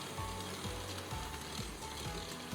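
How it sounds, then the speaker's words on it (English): A stand mixer kneads shokupan bread dough on medium speed, giving a quiet mechanical hum with a regular rhythmic thump and clatter about twice a second as the dough slaps around the bowl. "Start mixing again on medium speed and knead for another 10 to 15 minutes."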